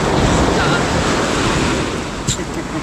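Ocean waves wash against a fishing boat out at sea, a steady rushing surf blended with gusty wind buffeting the microphone throughout.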